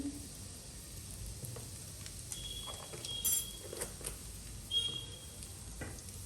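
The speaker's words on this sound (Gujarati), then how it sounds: "હવે એક ચમચી જીરું ઉમેરી અને એને સાંદળવા દઈએ" Soft, steady sizzling of cumin seeds in hot oil, quiet and continuous with a few faint clicks and stirs.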